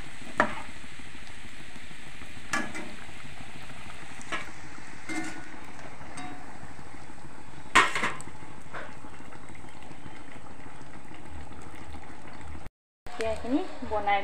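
Luchi, puffed flatbread, frying in hot oil in a home kitchen gives a steady, continuous sizzle with occasional utensil clinks, and a voice is briefly heard near the end.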